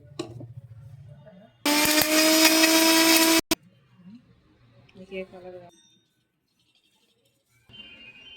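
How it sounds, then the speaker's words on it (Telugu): A kitchen mixer grinder blends curd with salt and cumin for lassi, starting with a loud, close, whirring motor roar that lasts about two seconds and then cuts off. Light clatter follows, with soft voice-like sounds before and after. "అలాగే ఇందులోకి మనం సరిపడే అంత సాల్ట్ని కూడా యాడ్ చేసుకొని మిక్సీ అయితే పట్టుకోవాలి"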